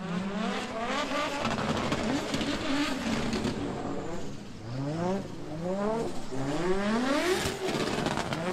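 A drift car's engine revving hard through a drift competition run, with repeated rising throttle blips and bouncing rev sweeps over a continuous roar and tire noise, loud and sustained.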